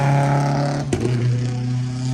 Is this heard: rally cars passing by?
yes